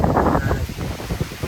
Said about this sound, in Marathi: वारा सुटला आणि पाऊस पण आहे